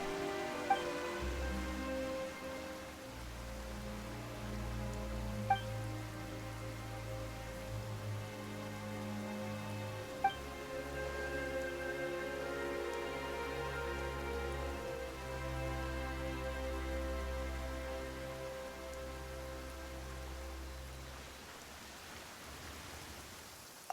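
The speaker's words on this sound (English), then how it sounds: "Why is it raining all of a sudden?" Steady rain falls in the video game Genshin Impact, a soft, even patter throughout with sustained background music and a few faint clicks, no talking.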